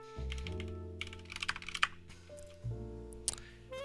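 Keystrokes from a computer keyboard during a live coding session, a quick burst of clicks in the middle over a steady low hum with tonal background sounds, no talking.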